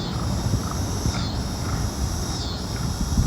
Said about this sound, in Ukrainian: Це птиця орет, птиця. Оце так вона оре.